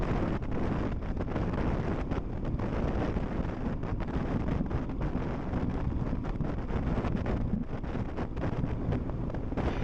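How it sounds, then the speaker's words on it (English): Strong crosswind during a road cycling race, a loud continuous roar and buffeting of wind against the microphone with no break, no voices. "with that wind coming from the left side, that was somewhat sketchy"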